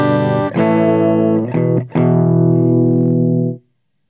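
A clean electric guitar played through a small Koch amp rings out in a few sustained chords that change twice, loud and close, then the sound cuts off into silence.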